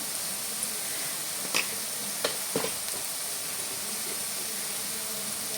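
Spice masala with a little turmeric frying in oil in a pan, a steady close sizzle throughout with a few brief sharp clicks of stirring midway.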